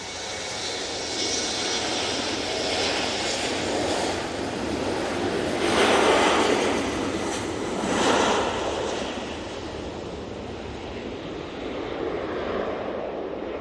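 Ryanair airliner jet engines at Manchester Airport produce a loud, sustained roar with two surging swells, then ease to a steady, slightly fainter rumble, with no voices.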